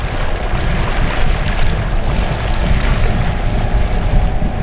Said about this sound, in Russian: Эти лодки режут воду словно нож.